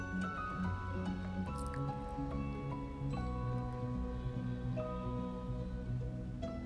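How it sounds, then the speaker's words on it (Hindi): Cooked rice is stirred with ghee in a pan for methi and jaggery laddoos, making soft wet squishing and dripping sounds under a steady background of musical tones. "तो सारे चावल को हमें प्रॉपरली घी के साथ अच्छी तरीके से मिक्स कर लेना है।"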